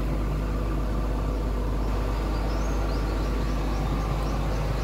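An excavator's diesel engine sits idling after starting, a loud, constant low rumble that holds steady throughout with no breaks and no talk.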